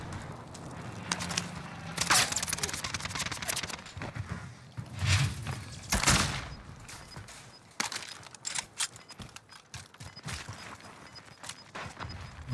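Gunfire in Call of Duty Warzone on Rebirth Island, with scattered shots and crackling bursts at varying distance, some sharp and close, others fainter, mixed with footsteps and movement over game ambience.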